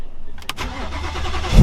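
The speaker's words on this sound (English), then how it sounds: "get the first ever footage of this even cranking the engine" A 900hp carbon-fiber Revenge GT Mustang supercar cranks with a short starter whir, then its engine catches and rumbles loudly to life up close at the very end.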